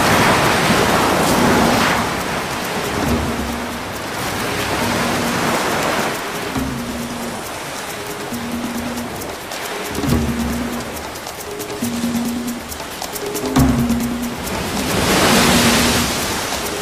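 Surf breaking repeatedly on wet sand at the shore, a steady roar with swelling crashes every few seconds, close and loud throughout with no voices.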